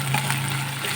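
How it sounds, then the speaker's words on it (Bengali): Ginger paste frying in a pan gives a steady, close sizzle with a soft constant hiss throughout, no voices over it. "আদাটাও কিন্তু খুবই সুন্দর করে ভেজে নিয়েছি"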